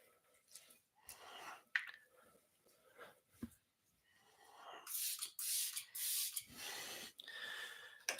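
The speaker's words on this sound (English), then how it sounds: "A little spray." A spray bottle misting a cleaning product during a wipe-down, giving several short airy hissing bursts, close and moderately loud, between rubbing and wiping sounds.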